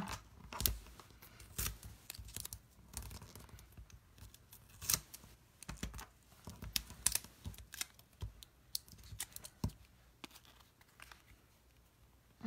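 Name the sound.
3M tape being pulled and cut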